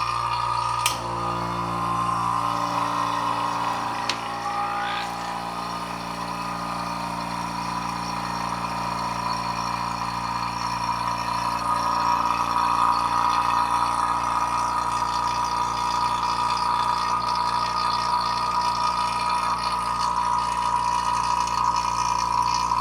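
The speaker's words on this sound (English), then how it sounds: "And then we'll put the bowl inside the chamber and turn on the vacuum." A vacuum pump runs steadily for the full stretch, evacuating a chamber with a bowl of water inside, giving a loud, continuous mechanical hum and whir with no talk.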